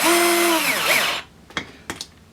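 A WORX Switchdriver cordless drill drives a screw in one loud, steady whirring burst that cuts off after about a second, followed by two short, fainter clicks or knocks.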